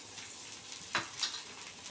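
Rava dosa frying in oil on a hot pan, giving a soft, steady sizzle with a couple of brief louder crackles, quiet and close.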